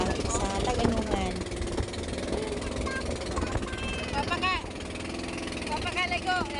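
A small boat motor drones steadily throughout a crossing from Cortez to Taganungan island, Surigao del Sur, with people chattering over it and water noise around.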